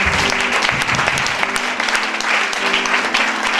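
Loud, sustained applause from a church congregation, many hands clapping together in a thick, even roar with faint voices mixed in.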